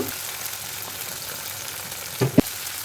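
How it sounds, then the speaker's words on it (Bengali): Marinated shing fish roe frying in hot oil gives a faint, steady sizzling hiss, with a couple of brief louder spatters or stirs near the end. "এখন ম্যারিনেট করা যে মাছের ডিম ছিল, সেই মাছের ডিম আমি এখন ভাজি করে নেব।"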